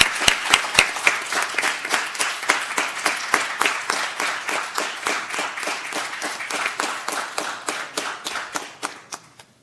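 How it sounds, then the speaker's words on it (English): Audience applause at a school board meeting, a steady run of many hands clapping in the room for nearly ten seconds, holding even and then thinning out at the end. "Let's give him a round of applause."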